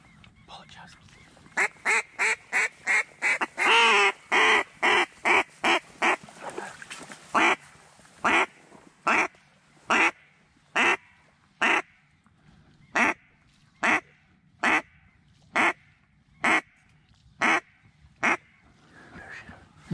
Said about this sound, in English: That's what's so nice about single Drake mallards.